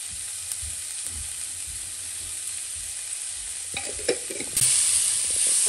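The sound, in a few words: rajma filling frying with chilli, goda masala and salt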